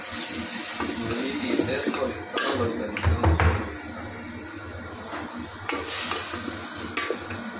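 Washed vegetables hit a hot pan and sizzle, with loud stirring scrapes around the middle over a steady frying hiss, close up and without speech.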